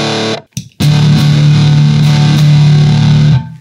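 An Electro Harmonix Satisfaction Plus fuzz pedal with the bias turned full gives a loud, thick distorted guitar tone. A brief drop and stab come first, then a single sustained fuzzy note that cuts off near the end.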